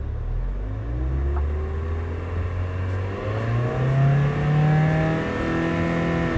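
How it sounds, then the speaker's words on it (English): Hyundai Elantra engine revs up under throttle, a loud steady rumble with rising pitch that climbs and holds through the whole stretch, close and alone with no talk. "Now watch when I get on the throttle here."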